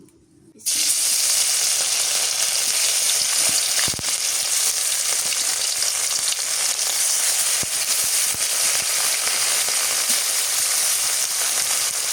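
Small river fish sizzle in hot mustard oil in a heated wok. A loud, steady, hissing fry starts abruptly and runs unbroken, with no voices over it.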